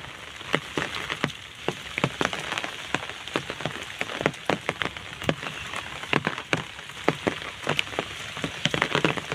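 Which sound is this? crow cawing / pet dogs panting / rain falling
rain falling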